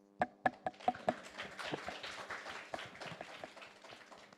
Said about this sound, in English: I hope that you will join me in applauding to our speakers